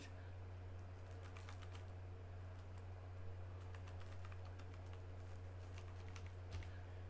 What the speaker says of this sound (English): you're gonna hear the typing noise because I gotta send her the message